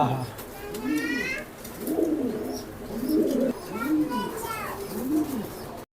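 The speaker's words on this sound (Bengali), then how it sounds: "খুব সুন্দর সুন্দর মিলি কবুতর আপনাদেরকে দেখাচ্ছি" Racing pigeons coo close by in a steady series of about five rhythmic throaty calls, with faint chirps and a voice in the background.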